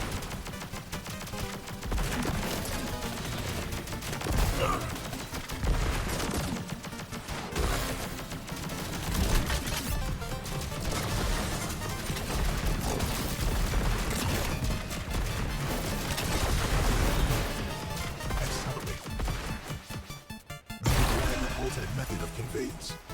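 Dense, continuous bursts of gunfire and crashing impacts from the video game Contra: Operation Galuga fill the scene almost without pause, loud and busy, with a brief drop near the end before the shooting resumes.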